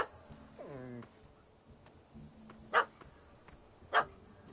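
A dog in The Witcher 3 gives a whining yelp early on, then two sharp, loud barks spaced about a second apart, set against a quiet game background.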